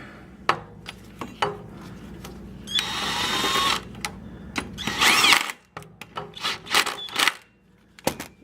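Power tool snugging up bolts during an engine install on an Envoy: two loud, whirring bursts of a few seconds each, with sharp metallic clanks and knocks of tools and parts before, between and after them.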